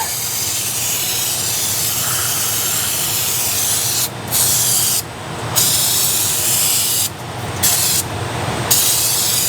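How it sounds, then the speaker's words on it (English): Brake cleaner sprayed onto a new clutch pressure plate for a 1966 Plymouth wagon: four loud hissing bursts of aerosol over a constant background rush. "I need some brake cleaner."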